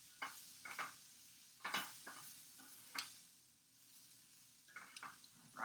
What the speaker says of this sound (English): I'm just going to stir this up.